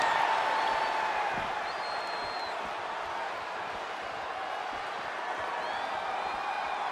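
A steady crowd roar with scattered cheers and whoops fills the arena in the Def Jam video game, holding a continuous, moderately loud wash throughout with no talk on top.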